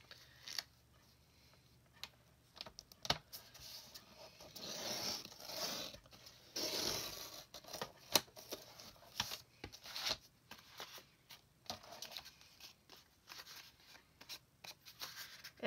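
Scissors cutting paper squares for a junk journal from used book pages, giving a run of close, quiet snips and rustles of paper being handled, with no talking.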